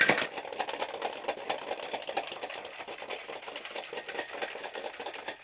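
Ice rattles hard inside a cocktail shaker during a wet shake, a rapid, rhythmic clatter of large and small pieces of ice, close and steady, loudest at the start.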